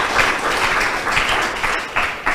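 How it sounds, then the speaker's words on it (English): An audience at a school debate between Escola Secundária 12 de Novembro and Santa Madalena de Canossa gives sustained, moderately loud applause, dense clapping pulsing in waves. "please give them a big round of applause"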